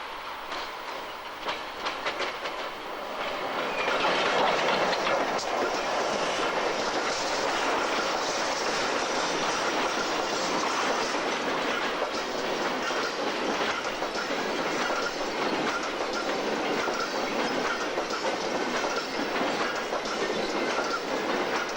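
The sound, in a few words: trains at the Irún and Hendaya border stations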